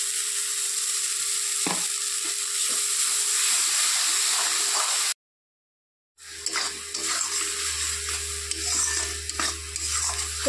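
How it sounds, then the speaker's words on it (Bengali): Ground mustard paste going into a spiced tomato masala in a hot pan, a soft sizzle and hiss with a few spoon taps, then a brief silence before a louder, steadier frying sizzle with a low hum underneath, and no talking. "তো এখন দিয়ে দিব বেটে রাখা সর্ষে,"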